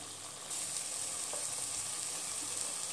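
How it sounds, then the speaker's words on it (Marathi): Masala spice paste fries in a pan, giving a steady, dense sizzle that holds on evenly without any talking. "मसाल्याला आपण थोडा वेळ अजून 5 मिनिटं करपू देऊया"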